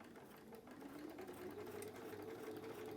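A domestic sewing machine stitches steadily along a fabric edge, its motor giving a continuous close hum with a faint rapid needle rhythm that rises slightly in pitch as it runs.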